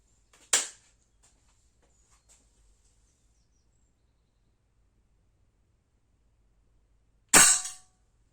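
Two sharp pellet shots from a Blow H01 4.5mm air pistol, each a crisp snapping crack, loud and close, spaced about seven seconds apart with near silence between.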